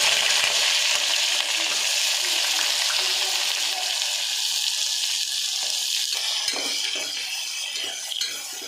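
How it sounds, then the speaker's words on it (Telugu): Sliced onions and whole spices, including caraway, cinnamon, star anise and bay leaf, fry in hot oil for mutton biryani, giving a loud, steady sizzle with stirring that eases slightly toward the end. "ఉల్లిపాయలు మంచిగా వేగాలండి."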